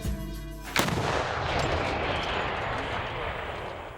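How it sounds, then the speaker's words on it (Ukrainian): A D-20 howitzer fires a single loud, close blast that rolls into a long, dense rumbling echo, following a brief tonal hum at the start. "Це пушка, гаубиця системи Д-20."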